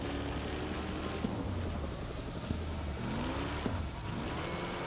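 A car engine in the rally racing game Gravel revs and whines steadily during a drift, a loud, continuous drone with shifting pitch and brief bumps, with no talk over it.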